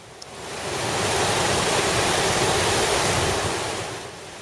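Loup River water pours over the diversion weir at the Headworks west of Genoa, Nebraska, making a steady, close, broadband rushing roar that swells slightly and then eases, with no voices.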